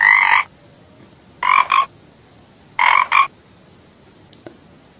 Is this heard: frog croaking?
yes